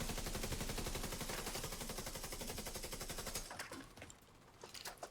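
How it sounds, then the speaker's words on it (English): A light machine gun in The Division 2 fires a long unbroken stream of rapid shots for about three seconds, loud and close, then stops, leaving scattered fainter gunfire in the background. "it's like I'm shooting an LMG"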